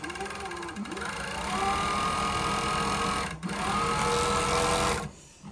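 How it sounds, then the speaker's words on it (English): A Juki MF7923U cylinder-arm industrial coverstitch machine sews steadily, its motor humming with a fast, even needle rhythm that rises as the pedal goes down, dips briefly, then stops near the end, with no talking. "Just gently press on the pedal. It's nice silent machine and very steady sewing."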